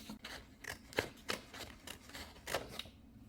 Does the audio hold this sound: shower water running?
no